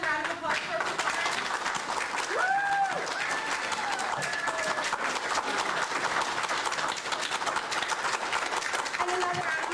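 A school audience claps for student performers in sustained, fairly distant applause that carries on for nearly ten seconds, with voices and brief whoops rising over the steady patter.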